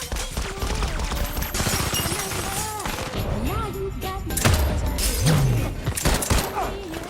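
Gunfire in an action film scene shot at a man who dodges it amid fog, sounding as rapid bursts of shots mixed with dramatic music and loud effects, with a brief swoop of low sound effects.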